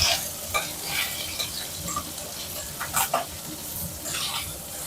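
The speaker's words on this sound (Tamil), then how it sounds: "கொஞ்சோண்டு எண்ணெய் ஊற்றி இந்த கருவாட்டை போட்டு வறுத்து எடுத்துக்குவோம்." Dried anchovy fish frying in a small amount of oil, with a steady crackling sizzle throughout and scraping, clattering stirs close by.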